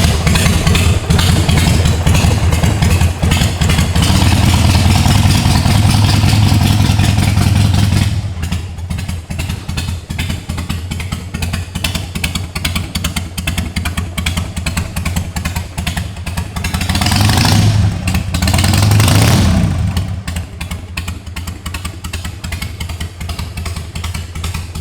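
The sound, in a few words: 2006 Harley Davidson 883C motorcycle engine starting and revving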